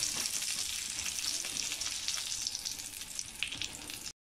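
Pan-fried buns stuffed with mutton, coriander and agaric sizzle steadily in a hot pan, a dense, continuous close crackle of frying with no voices.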